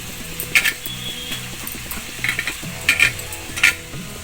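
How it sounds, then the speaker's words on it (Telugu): Chopped medium onions frying in a pan with curry leaves and green chillies, stirred with a utensil that scrapes and clinks in several distinct strokes over a low sizzle; close, with no talking. "ఉల్లిపాయలు అయితే కలుపుకుంటున్నాను."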